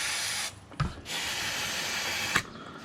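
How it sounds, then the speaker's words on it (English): Chain lube hisses from an aerosol onto a KTM 1290 motorcycle chain in a long, steady spray, breaks off briefly with a small knock, then resumes and continues close up. "and then spray"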